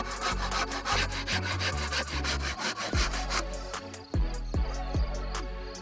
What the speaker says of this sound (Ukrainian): Беремо в руки пилку і відрізаємо зайве.